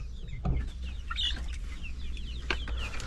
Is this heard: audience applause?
no